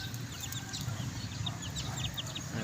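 Chicks and hens on a small farm cluck and cheep steadily in close range, with repeated high peeps scattered over a continuous low clucking murmur and no talk.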